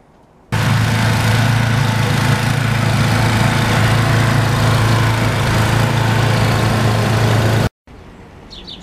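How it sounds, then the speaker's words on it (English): Small snow blower engine running steadily and loud in a snowy shop yard, a constant low droning hum with a rough mechanical rattle that holds for about seven seconds, then cuts out abruptly before a quieter engine-like noise resumes. "Thank God for snow blowers."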